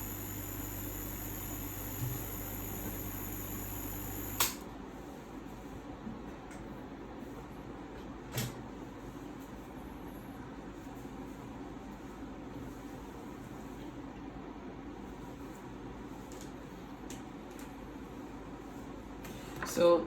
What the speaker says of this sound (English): So this is my HIBLOW 4-nozzle air pump, model ACO 9610.